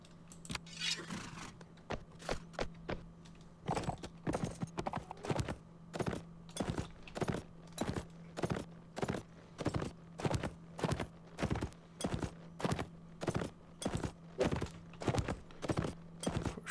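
Regular hoof clops from a horse in a video game, a steady walking rhythm of paired thuds repeating throughout with a low constant hum beneath, no talk.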